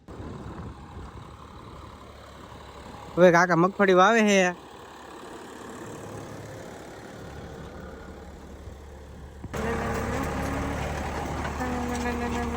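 A tractor hitched to a seed drill for sowing peanuts in a farm field runs with a steady low rumble, briefly under a short stretch of talk, then grows noticeably louder toward the end.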